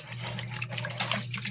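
Running water splashes steadily as foam helmet padding from a Move It helmet is soaked in a basin, a continuous close, moderately loud wash of liquid with a low hum underneath.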